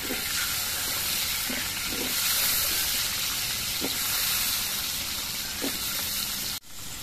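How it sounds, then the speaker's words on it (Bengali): Potato pieces fry in hot oil in a pan, giving a loud, continuous close sizzle with a few soft utensil taps, ending in a brief knock. "এবার এই তেলের মধ্যে আমি আলুগুলো ভেজে নিচ্ছি।"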